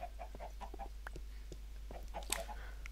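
Minecraft chickens clucking around the player, a scatter of short soft clucks at irregular intervals over a low steady hum, fairly quiet with no talking.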